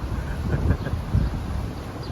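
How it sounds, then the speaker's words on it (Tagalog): Strong wind in Kuwait roars and buffets against the microphone in a steady low rumble, with gusts swelling briefly louder. "Mahangin, mahangin, mahangin ang Kuwait, mahangin."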